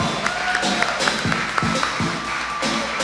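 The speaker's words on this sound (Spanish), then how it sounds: "Vamos a darle un aplauso al Señor" A church congregation at a service claps steadily, a brief burst of applause with sharp individual claps over a low background murmur.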